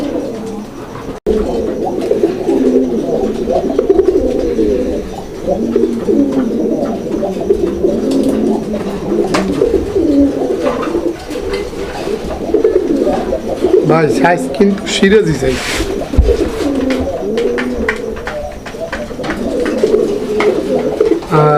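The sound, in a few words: pigeons cooing at a pigeon seller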